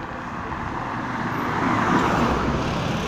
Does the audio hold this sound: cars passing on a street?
yes